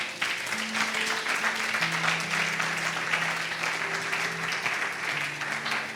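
A church congregation claps steadily in sustained applause acclaiming the Lord, a dense, even wash of hands with a faint held tone beneath and no speech.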